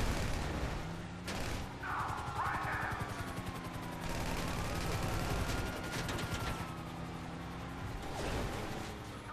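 Gunfire crackles in dense, fast bursts during a Grand Theft Auto police chase, steady throughout under a busy game soundscape with sirens and engines.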